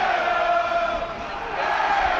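Football crowd at a Portsmouth match, a sustained roar of massed voices in a stadium, steady and fairly loud with chant-like tones, continuous for the whole stretch.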